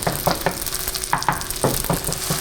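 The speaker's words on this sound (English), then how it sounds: "crack the egg on the other side of the pan. Just gonna let that cook up." An egg cooking in a hot pan beside noodles and tofu for pad thai, a steady sizzle broken by rhythmic scraping and tapping from a utensil, close and fairly loud.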